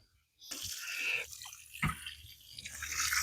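Water pours into the soil well around a newly planted fruit tree and soaks in, making a steady splashing, trickling rush close by that surges and softens.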